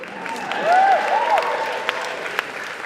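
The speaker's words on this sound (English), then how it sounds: "you may cheer." An audience at a burlesque-themed birthday celebration in a library hall cheers and applauds, steady clapping with a few whoops and rising voices, filling the room moderately loud.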